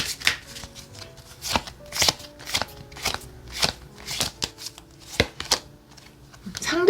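Lenormand cards shuffled by hand during a tarot love reading, making a close series of crisp riffling and snapping bursts at an uneven rhythm, with no talk over them.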